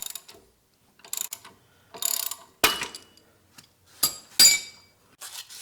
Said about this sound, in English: it is back to the ratchet to pull the bushing the rest of the way out